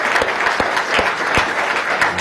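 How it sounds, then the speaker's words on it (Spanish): Dense studio audience applause during a televised Venezuelan presidential broadcast, a loud, steady clatter of many hands with a few sharper claps standing out. "desde aquí el aplauso para Venezuela, para el mundo"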